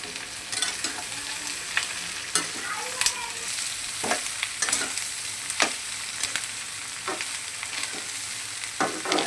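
Onion and curry leaves fry in a pan for a potato bhaji, a soft continuous sizzle broken by sharp periodic spatula clicks and scrapes, close but fairly quiet, with no voices.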